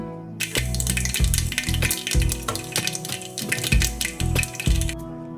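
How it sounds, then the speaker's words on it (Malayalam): Mustard seeds spitting and sizzling in hot oil in a small pan, crackling in irregular bursts with low thuds and scraping underneath, fairly close and moderately loud throughout. "അതിലോട്ട് കുറച്ച് എണ്ണ ഒഴിച്ച് ആ എണ്ണയ്ക്കകത്തോട്ട് കുറച്ച് കടുകിടണം"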